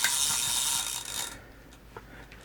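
A Yashica Mat twin-lens reflex camera's shutter mechanism is worked by hand, giving a close, dry mechanical ratcheting whir that fades into a few faint clicks.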